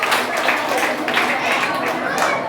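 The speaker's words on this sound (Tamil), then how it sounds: "நான் காவியாவுக்கு ஒரு கைத்தட்டல் கொடுங்கம்மா" An audience claps steadily for a child at a Kamba Ramayanam recitation event, with crowd murmur mixed into the applause.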